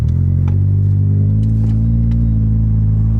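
A Volkswagen Golf R fitted with an AWE SwitchPath exhaust idles with its valves closed, a steady deep low rumble, close and continuous, with faint clicks over it.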